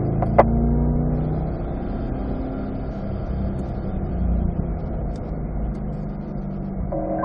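A Corvette in fourth gear climbs a hill on a race track, its engine a steady, sustained drone heard from inside the car. The pitch and level stay fairly even, and no one talks.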